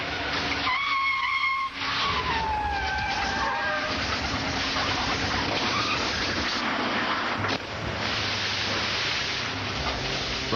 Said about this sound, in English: A collision up ahead forced the traffic to stop suddenly on the wet road.